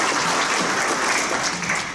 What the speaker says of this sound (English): How about a round of applause for the chamber and our staff